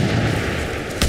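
A sniper rifle shot in the video game Far Cry 5 cracks out as a single sharp, loud report near the end, over a dense, noisy background of rumbling game ambience.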